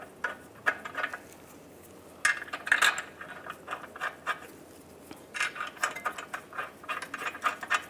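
A hand ratchet snugs up new ball joint bolts on the front wheel hub of a 1998-2010 Volkswagen Beetle, giving rapid bursts of clicking pawl ticks in several runs, close and fairly clear.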